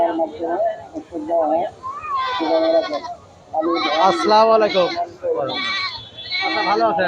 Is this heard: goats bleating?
yes